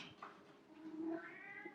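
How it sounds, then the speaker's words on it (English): A cat at a front door gives a short, faint meow, heard close and alone without any talking over it. "The cat's scratching at the front door."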